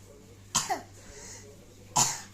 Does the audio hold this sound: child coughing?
yes